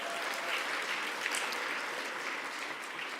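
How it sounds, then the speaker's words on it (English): Steady applause from a crowd at a medical school Match Day event, dense and continuous clapping throughout with no voices standing out. "Let's give all of you a big round of applause for what you're doing."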